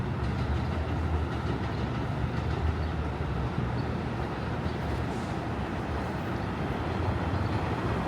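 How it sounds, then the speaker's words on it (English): An NYC 7 subway train rumbles past in Sunnyside, Queens, a dense roaring wash of wheels and rail noise holding steady throughout at moderate distance. "I can see a 7 train just passing through"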